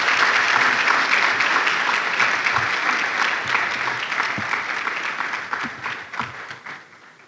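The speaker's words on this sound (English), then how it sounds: "Another round of applause for Prof. Asante." Conference audience applauding: dense, steady clapping from a large crowd in a hall, loud at first and gradually fading out over several seconds.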